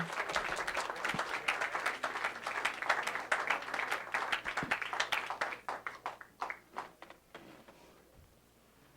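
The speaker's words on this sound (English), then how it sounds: "Please do applaud Greg Brown." Audience applause for a performer at a live Iowa show, a dense burst of many hands clapping that holds steady for several seconds and then thins out and fades near the end.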